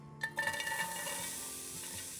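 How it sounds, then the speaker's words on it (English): Chopped peppers and onions sizzle as they are water-sautéed in a pot, with a brief clank of a utensil at the start and then a soft, steady hiss. "we'll sauté our peppers and our onions"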